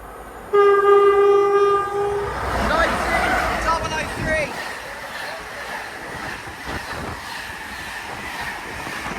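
A train hauled by a pair of Class 90 locomotives sounds a loud two-tone horn, then rumbles and clatters past close by on the mainline at Tamworth, with a voice talking over the passing noise.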